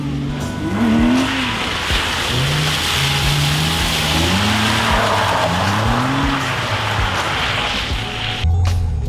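A car drifts, its engine revving hard in repeated rising and falling bursts while tires skid and squeal continuously, loud and close, with no talking.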